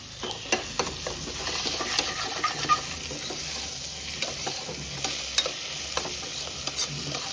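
Tomato and curry leaves sizzle in hot coconut oil in a pan while a spoon stirs, a steady crackling hiss punctuated by frequent clinks and scrapes of the utensil against the metal.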